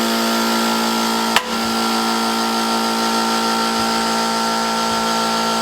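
A pedal-operated press in a machine shop pushes a bearing race out with a single sharp metallic crack, set against a steady motor hum that carries on before and after.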